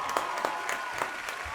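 A burst of applause in a radio studio during a Peruvian comedy broadcast, a short run of scattered claps with some background murmur, lasting under two seconds.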